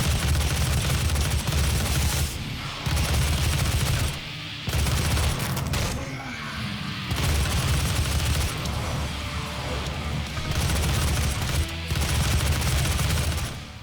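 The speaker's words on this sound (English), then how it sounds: "super shotgun" Heavy double-barrel super shotgun blasts from DOOM, loud bursts of booming gunfire repeating in quick succession with brief gaps, dense and close over the game's soundtrack.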